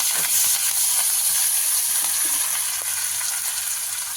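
Curry leaves hit hot oil in a pan for a Tamil kuzhambu, giving a loud, continuous close-up sizzle and hiss with faint crackles and no talk.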